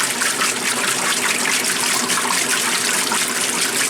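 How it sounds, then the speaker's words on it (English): A 1996 Maytag Dependable Care Plus washing machine agitates its load of water on a quick cycle, a loud, continuous sloshing and churning of liquid heard close up without any speech. "now it's going to start agitating"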